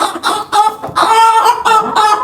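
Repeated short clucking calls from a hen about to lay an egg, fairly close and loud, in a steady run of bursts with brief gaps between them.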